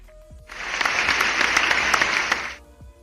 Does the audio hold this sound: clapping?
yes